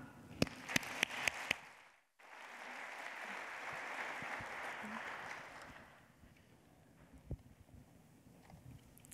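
An audience applauds to welcome science fiction reader Joy Ma, a steady wash of clapping from a crowd that swells after a short pause and then fades, with a few sharp claps standing out at the start.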